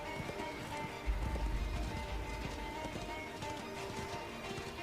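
Horse hooves galloping in the video game Darksiders II, a steady run of quick clip-clop beats over a busy game soundscape with a low rumble, heard without talk.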